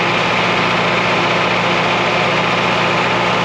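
A John Deere 3020 tractor engine runs at a steady idle on a southern Iowa farm during fall harvest, a loud, close, continuous low rumble with an even vibrating drone and no speech.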